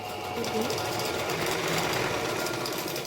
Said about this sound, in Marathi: इथे मी फिटिंगच्या शिलाई ज्या एक्स्ट्राच्या आहेत त्या मी देऊन घेणार आहे